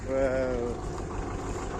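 A D-65 tractor diesel engine idling close by after ploughing with freshly adjusted valves, a steady low rumble under someone speaking briefly at the start.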